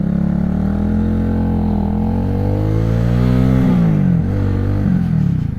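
An XMT 250cc motorcycle engine revving loudly nearby, a steady idle rising in pitch with several throttle blips and drops toward the end.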